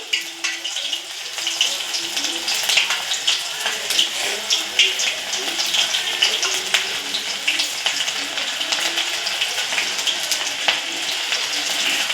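Food deep-fries in hot oil with a dense, crackling sizzle and frequent popping bursts, close and fairly loud throughout.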